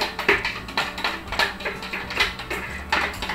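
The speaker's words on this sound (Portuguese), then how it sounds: "Vou raspar aqui no liquidificador." Rubbery spatula scraping and tapping against a blender jar to get out banana batter, a series of short uneven scrapes with faint clinks, close up.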